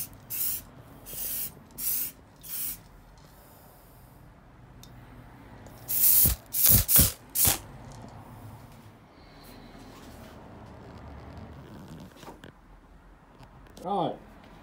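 An aerosol can sprays paint onto homemade koi pond jump guards, with several short hissing bursts early on, then a cluster of louder, longer sprays midway, and a voice talking quietly in between.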